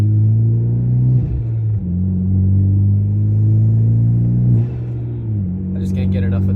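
Hyundai Genesis with straight-piped exhaust idling and blipping, a loud, close, deep droning rumble with pitch rising and dropping in a few gentle revs.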